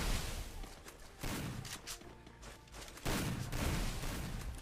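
Gunfire in a video game comes in dense bursts of rapid shots, with loud clustered volleys separated by brief lulls and no voices.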